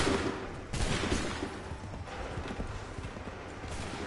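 Soldiers fire a rapid volley of gunshots in the Assassin's Creed 3 video game, a faint, distant crackle of shots over a busy background with clopping hooves.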